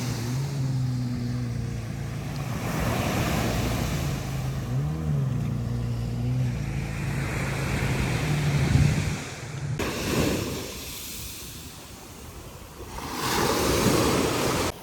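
Waves break and wash ashore on Batu Ferringhi Beach in Penang, a steady rushing surf with a low motor hum at first and gusty wind buffeting, swelling again near the end.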